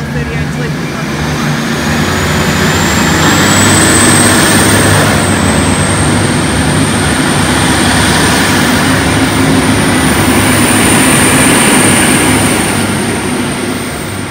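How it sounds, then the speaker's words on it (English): V/Line train departing a platform at Castlemaine station, a loud, steady rumble and engine roar with a high whine that rises in pitch and holds, heard close up throughout. "VL69 leaving platform 2 and VL38 leaving platform 1"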